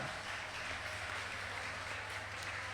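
Applause from an audience at a school prize-giving ceremony, a faint, steady wash of many hands clapping at a distance, even and unbroken throughout.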